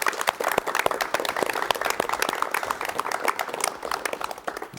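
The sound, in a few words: audience applause welcoming a guest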